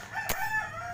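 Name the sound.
neighbor's rooster crowing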